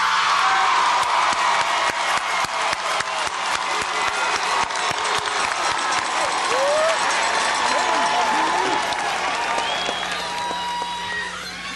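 A large graduation crowd at Howard University's 126th commencement convocation for the class of 1994 cheers and applauds loudly. Dense, sustained clapping mixes with shouts and crowd voices throughout.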